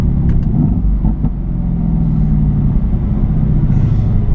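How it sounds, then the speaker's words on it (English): A Mercedes-AMG GT S with a rear-mounted bi-turbo V8 and rear-wheel drive gives a loud, close, deep and steady engine rumble that holds throughout, alone without talk. "The bi-turbo V8, rumbling out of the back, rear wheel drive, instant power."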